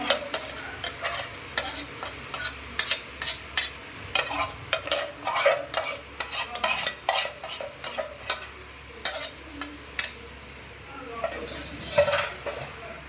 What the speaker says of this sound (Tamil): வந்து ஒரு 2 நிமிஷம் வதக்கினா போதும்